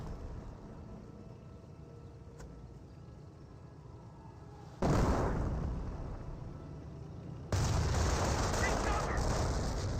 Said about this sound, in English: Flak 88 still firing away.